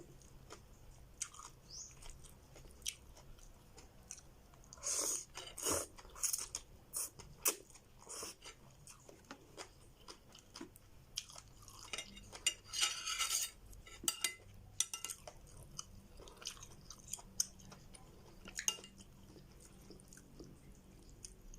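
Close, crunchy chewing of spicy papaya salad (som tam), with bursts of wet bites and mastication, scattered cutlery clinks and quiet gaps in between.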